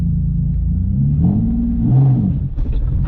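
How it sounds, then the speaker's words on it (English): A single-turbo Nissan 370Z engine revs up from a low rumble, climbing in pitch over a couple of seconds before dropping back, loud and close with no talk. "Just rev it a little higher."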